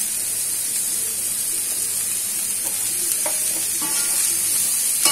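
Constant loud sizzling of bitter gourd frying in hot oil, with a few faint clinks and stirring sounds near the end.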